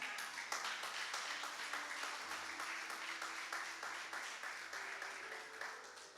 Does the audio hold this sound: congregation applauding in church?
yes